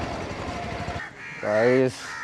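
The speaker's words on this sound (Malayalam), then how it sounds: "ഫുൾ കാക്ക ഇതാ ഇവിടെല്ലാം ഫുൾ കാക്കയാ" Crows caw at a medical college in Kannur, with a few loud, harsh calls standing out near the end. A person talks over the birds through the first half.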